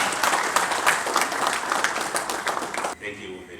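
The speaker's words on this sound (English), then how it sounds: "Let's give them a big, big, big hand." Audience applause at the Zambia launch of Kickstart's MoneyMaker starter pump, a loud, dense burst of many people clapping that cuts off abruptly, followed by a brief quiet tail.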